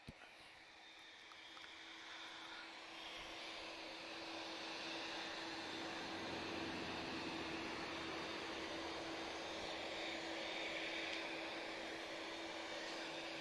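Boeing 787 Dreamliner bound for New York at Lisbon Airport, heard as a distant, steady rising roar of jet engines with a faint tonal whine, slowly swelling and then holding level.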